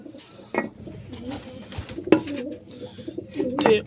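Pigeons coo softly in low, rolling calls, with a few sharp clicks and bumps nearby.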